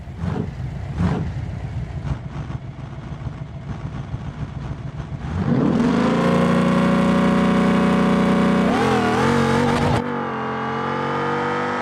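An engine climbs in a long, loud rev toward 6,000 RPM after a rougher, lower running stretch, holding a strained high pitch for several seconds before easing back slightly.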